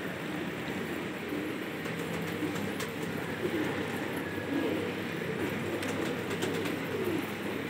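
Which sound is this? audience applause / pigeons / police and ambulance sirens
pigeons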